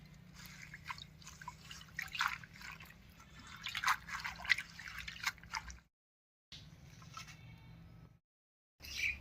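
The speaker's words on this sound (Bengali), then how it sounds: "এবার কানের ডিঙ্গি শাকটা ধুয়ে নিচ্ছি" Kanai dingi leafy greens are washed in water, with close drips, splashes and squishy handling sounds in uneven bursts, broken by two brief silences.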